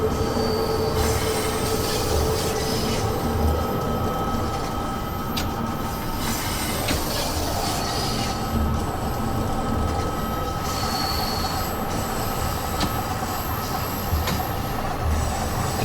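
Train wheels squeal on the rails in a video game, a sustained high-pitched screech layered over a constant rumbling roll, with occasional sharper squeaks and clicks throughout.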